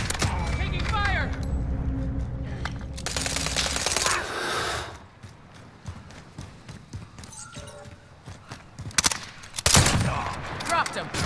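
Rapid automatic gunfire in the shooter game Modern Warfare, with dense, loud bursts of shots in the opening seconds and more sharp volleys later, heard close over game noise.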